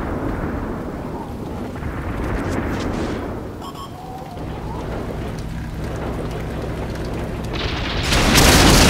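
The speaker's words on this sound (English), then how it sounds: "like I called, I'm being shot" A tank takes hits in the video game World of Tanks, with heavy booming impacts and rumbling battle noise throughout, swelling into a loud blast near the end.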